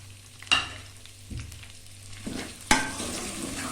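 Chopped onions stirred into a pot of lightly fried mutton with ginger-garlic paste for Hyderabadi bhindi gosht, a low steady sizzle with a few sharp scraping stirs of a spoon.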